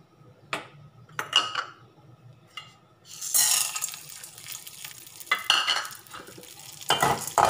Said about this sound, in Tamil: கடலைப்பருப்பு பொரிச்சுக்கலாம்